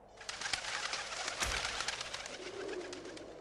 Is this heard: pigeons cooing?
yes